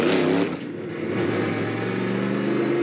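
A race car accelerates hard out of its pit stall during an all-star pit crew challenge, a loud engine roar that drops sharply after half a second and settles into a steady receding drone.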